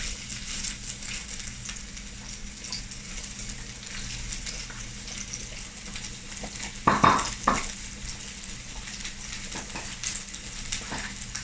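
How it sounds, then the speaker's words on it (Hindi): Chopped onion fries in hot ghee in an Indian home kitchen, making a continuous, close sizzle with a few brief clanks of stirring partway through. "अब जैसे ही थोड़ा सा घी गर्म होगा मैं इसमें ये प्याज डाल रही हूँ।"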